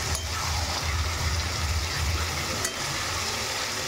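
Mutton pieces sizzling steadily in a hot pan for a Bengali mutton curry with potatoes as they are stirred and mixed, a continuous close frying hiss with low stirring rumble and no talk.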